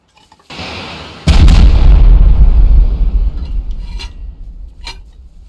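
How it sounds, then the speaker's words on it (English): A rocket explosion in the survival game Rust: a loud booming blast erupts after a brief quiet buildup, then rumbles and decays over several seconds with a few faint sharp pops trailing off, no voices present. "I'll try shoot a rocket at it"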